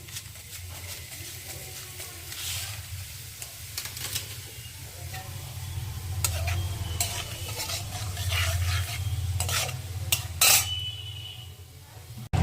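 Whole cumin and black cumin seeds sizzle in hot oil as a tempering, a continuous frying hiss broken by spoon clinks and stirring against the pan.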